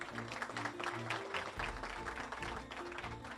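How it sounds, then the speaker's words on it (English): Audience at a spelling bee applauding the parents, a continuous patter of clapping held at moderate, fairly distant level, with low background tones beneath. "Another round of applause for yourselves, parents."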